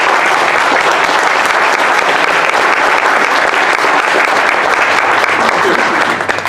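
An audience applauds guests introduced at a hockey talk event, loud sustained clapping from many hands filling the room evenly from start to finish.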